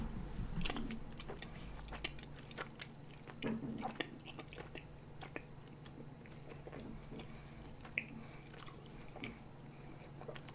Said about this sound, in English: while I'm chewing